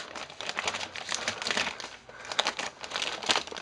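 Plastic wrapping crinkles and crackles as a CoolerMaster Silent Pro 700W power supply is unwrapped, in close, uneven bursts of rustling with brief pauses between handfuls.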